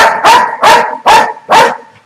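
A protection dog named Judah barks right beside its trainer's face: five loud, close, evenly spaced barks in quick succession, each sharp and full-bodied, with no other voices.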